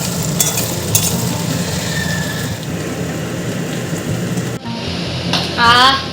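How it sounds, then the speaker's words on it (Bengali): Eggs and potatoes fry in a pan with a dense, steady sizzling hiss close by, and a brief voice rises near the end. "এই যে ডিম আর আলুগুলোকে সুন্দর করে ভেজে নেব"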